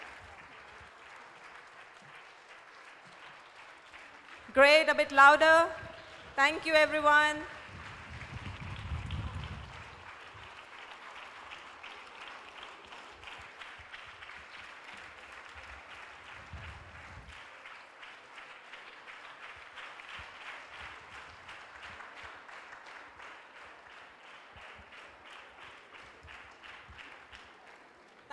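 Audience applause at a mental health seminar: a sustained, even wash of clapping from a large crowd runs throughout, with brief louder bursts of cheering or a whistle early on and a short spoken thank-you over it.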